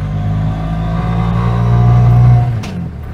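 Engine of a three-wheeled tuk tuk revving steadily and rising in pitch through a gear change, a close, loud mid-frequency drone with a brief drop near the end.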